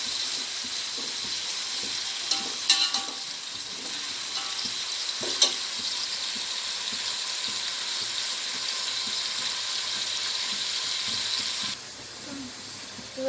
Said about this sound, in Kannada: ಈ ಚೆನ್ನಾಗಿ ಗೋಲ್ಡನ್ ಫ್ರೈ ಆಗಬೇಕು.